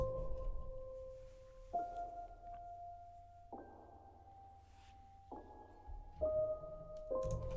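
Simple piano octaves entering on each downbeat, about six sustained notes changing pitch in steady succession over a soft low bed, quiet and unhurried.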